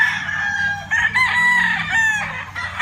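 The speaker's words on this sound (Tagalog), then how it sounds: "This is the brood cock." A white Kelso gamefowl brood cock crows once on a farm, loud and close, its strained cock-a-doodle-doo filling the moment with no one speaking.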